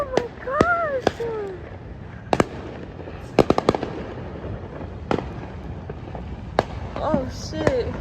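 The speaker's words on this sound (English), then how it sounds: "Look at all the fireworks." Fireworks bursting outdoors during a fireworks-day celebration with a thunderstorm nearby, sharp loud bangs and crackling pops scattered across the clip amid whistling rises, with excited voices talking over them.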